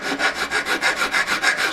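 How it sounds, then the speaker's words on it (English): A hand file rasps across a metal ring in steady back-and-forth strokes, about seven even rhythmic scrapes, close and alone. "then I run the file across it that way, make sure it's all going nice and straight"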